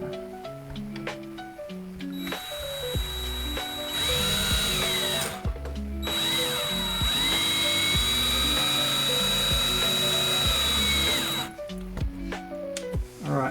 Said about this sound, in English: Let's use the drill.